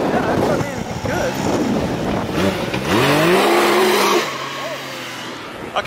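A drag car revs hard at close range as it launches and lifts its front tires, the engine note sweeping upward then settling, with wind buffeting and people talking over it.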